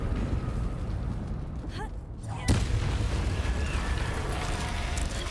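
A single sharp blast goes off in the Hogwarts Legacy video game, a brief, punchy boom midway that rises over the constant rumbling game soundscape.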